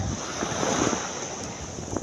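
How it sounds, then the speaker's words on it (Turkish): Rough surf churning nearby under gusty wind buffeting the microphone, a constant washing roar with occasional splashes. "Çok dalgalı anneciğim Deniz."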